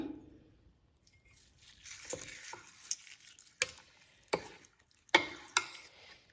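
A spoon stirs tempering into spinach dal after the stove is switched off, making a quiet background of soft sizzle broken by several sharp spoon clinks and scrapes against the pot.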